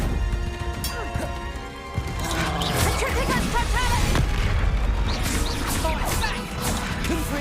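Confringo fire spell exploding in Hogwarts Legacy, a loud booming crash that lingers as a crackling, rumbling burst under muffled game voices.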